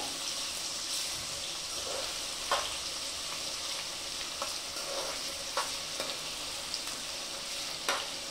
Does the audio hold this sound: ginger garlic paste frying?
yes